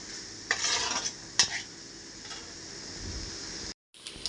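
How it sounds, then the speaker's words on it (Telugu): Egg fried rice is stir-fried on a high flame, with a few sharp clinks of a utensil against the pan over a soft, continuous sizzle. It ends in a brief cut to silence. "ఏది చేసినా హై ఫ్లేమేనండి రెండు నిమిషాలు వేయించితే సరిపోతుంది"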